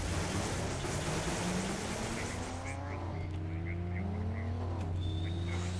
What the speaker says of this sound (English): The car sounds are different.